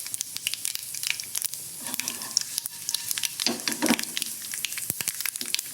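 Dried red chillies and urad dal sizzling in hot oil while tempering for a Kerala papaya erissery: dense, crackling spatter with rapid irregular pops, loud and close throughout.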